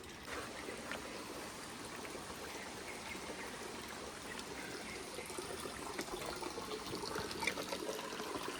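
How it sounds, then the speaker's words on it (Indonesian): A river in Bali near a camping spot and temple rushes steadily, a broad, even wash of flowing water that carries on unbroken and close. "Oke, kita udah dekat dengan sungai."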